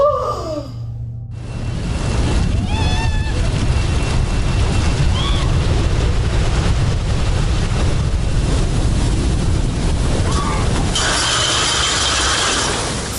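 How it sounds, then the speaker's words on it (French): Giant ocean waves crash with a heavy, continuous roar and strong wind buffeting against the microphone, and a sharp hiss of spray rises near the end. "Une vague monstrueuse a surgi de nulle part"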